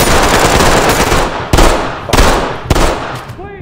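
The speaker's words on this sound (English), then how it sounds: "you're shooting behind a riot shield, Kenny." Loud, close automatic gunfire in a shooter video game, with a dense stream of rapid shots broken by a few sharper individual cracks near the end.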